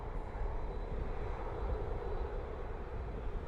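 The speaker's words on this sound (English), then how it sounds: "Nine-year-old aircraft, a 767," A FedEx Boeing 767 jet, nine years old, heard at Dublin Airport on a cold evening, gives a steady broad roar of engines that holds level throughout, distant and without talk.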